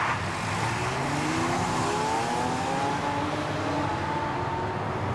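A convoy of luxury cars rolls along a Dubai street, engines revving and rising in pitch as they pass, a loud, continuous roar of several vehicles with no voices.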